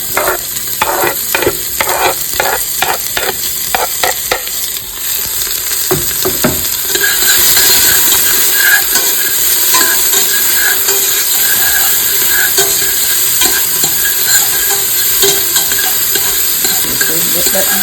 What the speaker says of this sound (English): chopped garlic, onion, and Scotch bonnet pepper chopped, so I'm gonna just put those